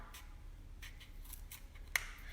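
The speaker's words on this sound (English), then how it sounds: "So I'm gonna take some scissors." Scissors snipping up close and quietly, several short separate cuts spaced irregularly, with no talking.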